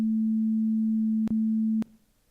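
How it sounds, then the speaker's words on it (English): A steady, pure electronic tone holds one pitch, interrupted by a brief click partway through, then cuts off abruptly near the end. "that creates a sine wave that sounds something like this."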